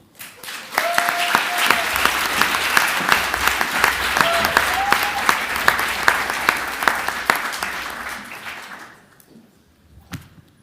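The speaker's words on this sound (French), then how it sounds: "Mesdames et messieurs, veuillez applaudir Sami Neri." An audience at a regional eloquence contest semi-final applauds a speaker being introduced, loud sustained clapping from a crowd filling the room with a few whistles, fading out near the end before a brief knock.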